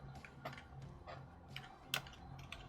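Light, irregular keystrokes on a computer keyboard while a Transport Fever 2 game plays, quiet scattered clicks coming in short bursts with one sharper tap near the end.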